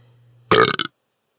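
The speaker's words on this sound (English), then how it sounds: "having an earbud in with that burp is not fabulous" One loud, close burp after a near-silent pause, lasting under half a second and ending in a few short croaking pulses, followed by silence.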